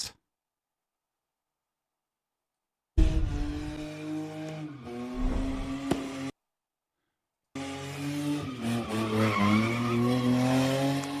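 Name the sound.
cars doing donuts with tires skidding at a street sideshow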